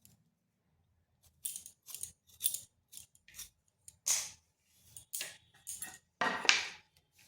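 A knife cutting a peeled medium-sized potato on a board in a home kitchen, a series of short crisp chopping strokes in an irregular rhythm, close and clear in a quiet room with no talk.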